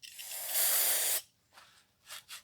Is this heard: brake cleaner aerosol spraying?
yes